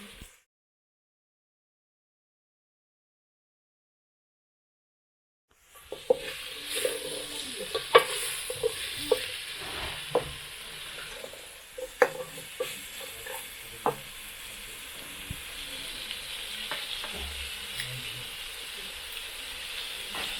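After about five seconds of silence, carrots tumble into a pot of village-style beef stew and are stirred in, bringing a soft sizzle and hiss broken by irregular scraping and clicking strokes of the spoon.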